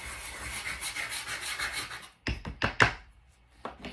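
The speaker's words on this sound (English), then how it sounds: "I'm literally just taking the flat edge and sanding that down so I don't have any clumps or bumps in my paper" Scrapbooking paper edges are sanded over a trash can: a steady rasping rub, then a few sharp, close scrapes and strokes, with no talk.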